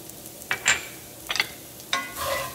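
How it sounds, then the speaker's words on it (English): Onions with salt and pepper stirred in a pan, with a few short scrapes and clinks of a utensil over a faint sizzle. "Give them a good stir."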